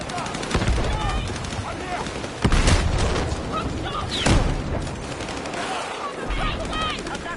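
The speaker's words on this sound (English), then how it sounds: "Where are they firing from?" Gunfire in Battlefield 6 on PS5, with heavy broadband shots standing out sharply near 0.6, 2.4 and 4.3 seconds over continuous battle noise, with faint voices mixed in.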